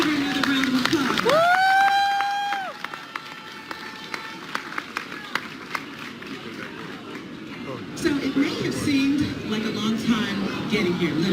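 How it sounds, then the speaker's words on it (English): An audience claps at an Ethiopian Airlines event announcing direct Atlanta to Addis Ababa flights, a scattered round of applause that runs several seconds between stretches of a voice talking through a microphone. "Let's give her another round of applause."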